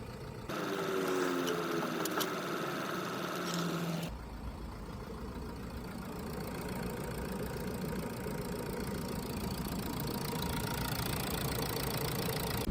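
A car engine idles while warming up after a thermostat and antifreeze change, a steady low rumble that keeps going throughout, with a brief shift in tone early on.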